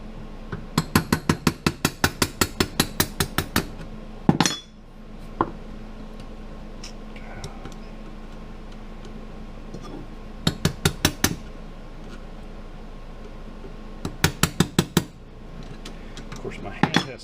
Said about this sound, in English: pressing on these little slots with the screwdriver and tapping it so that they spin around